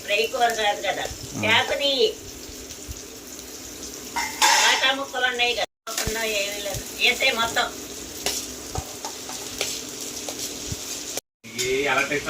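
Spring onions sizzle and fry steadily in a pan for an okra curry, a continuous close crackle with voices talking over it.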